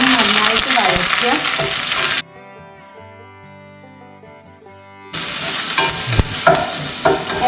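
Green chillies, ginger, curry leaves and onion sautéing in a pan give a loud, busy sizzle with stirring scrapes, broken in the middle by a stretch of soft melodic music before the frying returns.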